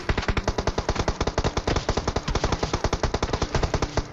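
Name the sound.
gunfire from an enemy in PUBG Mobile, a video game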